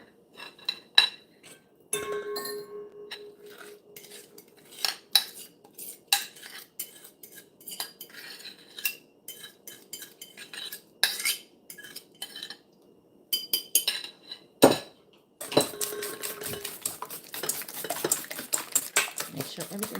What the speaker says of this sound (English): Make sure everything is mixed in properly.